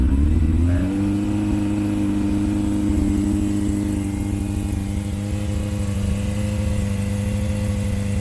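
Yamaha FZS600 Fazer motorcycle engine cranking and firing up on choke, then settling into a steady, fast idle with rising and falling tones; close and fairly loud, no voices.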